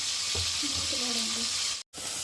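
Onions and tomatoes sizzle steadily in a hot pan as they are stirred, a continuous bright frying hiss with a brief cut near the end.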